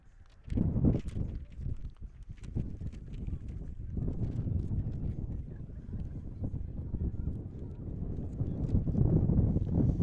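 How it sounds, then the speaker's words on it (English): Wind rumbles across the microphone at an afternoon high school baseball game, a steady low buffeting that swells toward the end, with a few faint knocks and scattered sounds around it. "it's a little bit windy here this afternoon"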